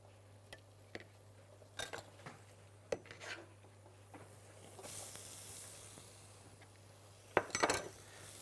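Shrimp get stirred in a cooking pan: quiet scrapes and clinks of a utensil against metal come at irregular intervals over a steady hum, building to a louder clatter near the end.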